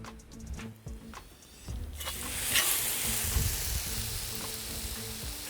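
Continuous sizzling and frying of onion in a cauldron, growing louder partway through, with a soft low hum underneath and no talking.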